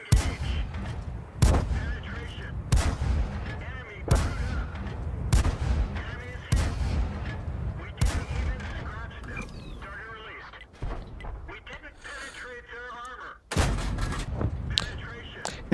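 The AMX 1357GF tank fires its rapid-fire gun in World of Tanks, with heavy booming shots repeating every second or so, each followed by a short tail, while battle noise rumbles between them and a voice is faintly present.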